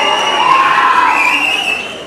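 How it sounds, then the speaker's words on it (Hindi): A school annual day audience applauds and cheers loudly in a steady, full wash of clapping and crowd noise, with a faint high whistle-like tone running through it. "इसमें सिर्फ तालियों के साथ आपने हौसला बढ़ाया"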